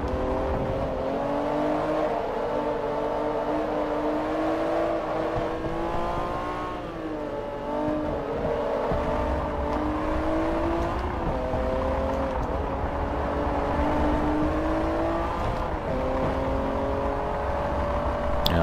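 An Acura NSX racing engine in Forza Motorsport 3 drones loud and close, rising and falling in pitch as the car accelerates and eases off through corners, with no speech.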